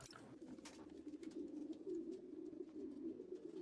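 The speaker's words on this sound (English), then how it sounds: "this was part of a sound sample to record a flock of pigeons?" A flock of pigeons coos in the video game Spider-Man: Miles Morales, giving a soft, continuous murmur of low calls at a quiet, moderate distance.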